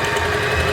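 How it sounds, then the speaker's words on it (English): A home sewing machine runs steadily while clothes are being made, giving a close, continuous motorized hum with a faint vibrating rattle. "Look, earthquake effect, sewing machine."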